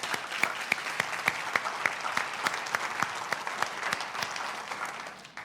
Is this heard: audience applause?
yes